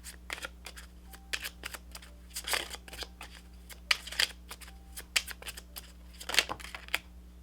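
A tarot card pulled from a deck, with quick crisp shuffling and flicking clicks in irregular bursts, close and fairly quiet, no talking.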